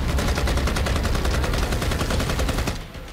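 Rapid, dense gunfire from two automatic pistols as three shooters open fire indiscriminately outside an office, loud and continuous for about three seconds before abruptly easing off.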